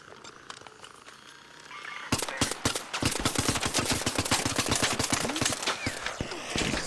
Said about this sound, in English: Are we getting shot by someone?